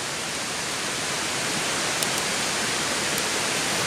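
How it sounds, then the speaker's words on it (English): River water pours steadily into a container for filtering, a dense, even rushing splash that holds at the same loudness throughout with no voices. "I'm going to dump it in this here, this container here."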